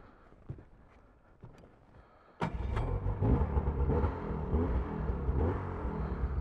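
A 2024 Arctic Cat ZR 600 Catalyst snowmobile sits quietly with faint knocks, then its engine fires up abruptly into a loud, sustained revving roar as the ride begins.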